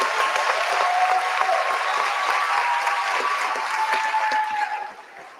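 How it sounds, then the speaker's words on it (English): Steady applause from an audience at a school board meeting, many hands clapping evenly for student writing winners, holding at a constant level before tapering off near the end. "So we want to give them a big round of applause"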